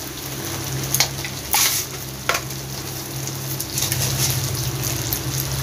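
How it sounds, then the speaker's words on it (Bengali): Spice paste for a potol (pointed gourd) dish fries hard over a high flame, a loud close sizzle punctuated by a few sharp bursts and stirring scrapes. "এটা হাই ফ্লেমে এটা রান্নাটা করে নিতে হবে, মশলাটা কষিয়ে নিতে হবে।"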